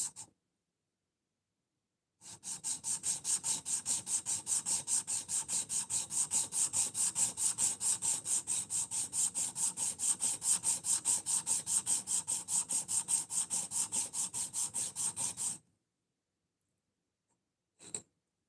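A knife blade is hand sanded with steady back-and-forth strokes in a single direction, a close, rhythmic rasping that runs for about thirteen seconds with roughly even strokes, then stops.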